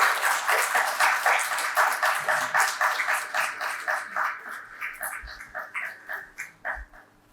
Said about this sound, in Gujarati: આપણે જોરદાર તાળીઓથી એમનું વંદન સાથે અભિવાદન.